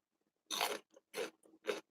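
Three sharp, close crunches of someone biting and chewing raw celery, spaced about half a second apart, loud and crisp against near silence.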